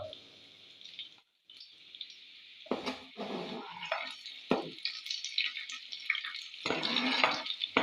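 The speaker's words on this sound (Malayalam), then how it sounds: "ഇഞ്ചി അരിഞ്ഞത് ചെറിയ ഉള്ളി ഇട്ട് കൊടുക്കുക" Chopped ginger and shallots frying in a pan for a Kerala moru curry, a steady hiss with bursts of louder spitting sizzle and stirring clatter, close and continuous without talk.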